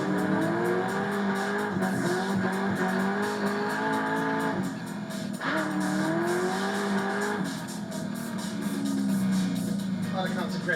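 A Corvette Z06 cornering hard on the road, its engine note rising and falling through gear changes with loud, close-up roar and tire noise, while voices talk over it.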